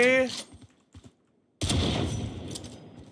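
A gun in the video game Outlaw fires a short burst of loud, sharp shots. Next come a few small clicks and a brief quiet gap, then a second sustained volley of gunfire.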